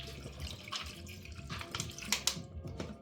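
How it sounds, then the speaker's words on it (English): Natural spring water poured from a bottle into a pot of dry noodles, a steady close splashing stream with a few brighter gurgles near the end. "you just want to pour it in until it covers the noodles"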